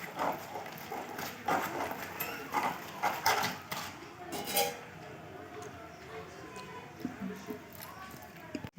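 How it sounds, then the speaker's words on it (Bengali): Egg batter being mixed in a bowl as water is added a little at a time, with repeated light clinks and scraping against the bowl, strongest in the first half, then quieter, under a soft background. "আমি এবার একটু একটু করে জল দিতে থাকবো আর একটা ব্যাটার তৈরি করে নেব।"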